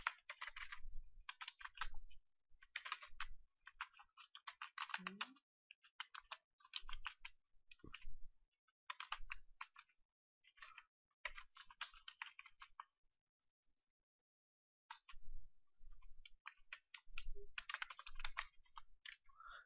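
Fast, close typing of code on a computer keyboard, heard as dense bursts of clicky keystrokes separated by short pauses and one longer silent gap, with no talking.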